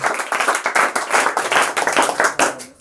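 Rhythmic clapping in a classroom for a correct quiz answer, a close group of hands beating together in a quick, fairly regular pattern that stops abruptly.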